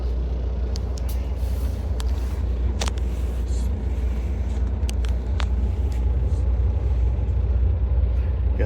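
A 40 Exo commuter bus drives along with a constant low engine and road rumble, heard from inside, with scattered short hisses and clicks of air brakes and fittings.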